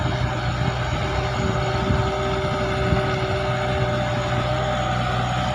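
A steady mechanical engine drone from a new Kubota L5018SP tractor, a low, constant hum running continuously at moderate loudness with no voices.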